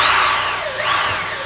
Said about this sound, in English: Now what I'm doing is I'll pre-drill just around the top here.